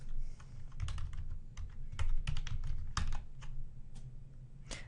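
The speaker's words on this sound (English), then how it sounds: "type CDP hold time" Computer keyboard typing of a Cisco CDP command, a close run of crisp irregular key clicks with brief pauses and a few heavier strokes, no talking.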